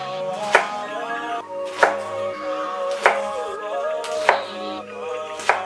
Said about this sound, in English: you just go ahead and start cutting them across the green like such